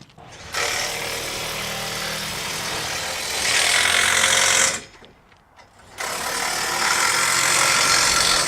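Power tool driving hardware while tightening the torque manager clamps on a boat lift, a steady loud whirring drone that swells briefly, cuts out for about a second, then resumes.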